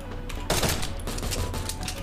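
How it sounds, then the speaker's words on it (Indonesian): Gunshots from a weapon in the Free Fire MAX mobile game, a burst of rapid shots with a sharp onset near the start, then repeated crackling reports over a steady game background hum. "Gua suka banget efek pelurunya ketika lu nembak tuh kayak ada bullet"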